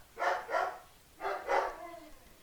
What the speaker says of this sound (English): I have dogs, and they will bark repeatedly in the background